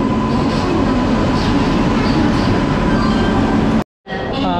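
The 142 New Alipurduar–Sealdah Teesta Torsa Express stands at platform 3 of a station, giving a loud, continuous rail rumble with faint clanks. The sound cuts out briefly near the end, then returns with a voice speaking over the station noise.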